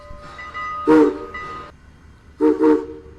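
Strasburg Railroad steam locomotive 89 sounds its whistle during switching moves: two paired blasts, a sharp double toot followed by a quieter note, then another louder pair, over low ambient rumble outdoors.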